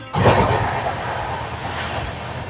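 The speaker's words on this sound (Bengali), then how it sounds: "ট্রেন কিন্তু বেশ ভালো গতিতে চলছে।" A general-class passenger train bound for Puri runs at good speed past a skipped station, heard from inside as a loud, steady rumble and rattle of wheels on rails that continues without break.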